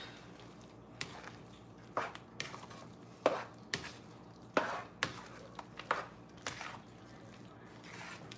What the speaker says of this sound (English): then slowly you're gonna stir everything up